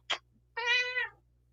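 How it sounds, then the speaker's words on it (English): A house cat gives a short chirp, then a clear, drawn-out meow close by over a faint steady hum, no talking. "That's my cat."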